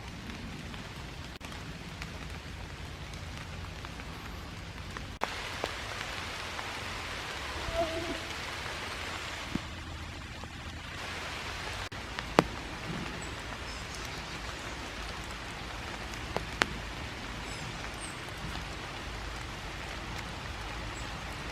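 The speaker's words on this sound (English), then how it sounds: "And it's starting to rain." Rain falling in a wooded park on a May morning, a soft, steady hiss of drops on leaves and ground with occasional louder drips, faint and continuous with no talking.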